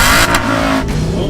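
A 2007 Aston Martin V8 Vantage engine revs loudly up close, a brief sustained roar with a slight dip and climb in pitch.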